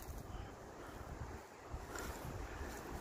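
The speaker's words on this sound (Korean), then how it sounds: "바람은 살랑살랑 불고" Gentle wind blows outdoors on a clear day in a garden nursery, a soft, continuous rushing with faint buffeting against the microphone and no voices.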